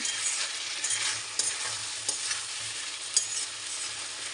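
Meat sautéed with ginger-garlic paste, meat masala, chili powder and a little sugar, giving a continuous bright sizzle broken by a few sharp spatula scrapes and clacks, with no talk.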